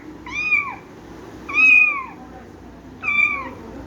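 Three clear cat meows, evenly spaced about a second apart, close and fairly loud over a faint background hum.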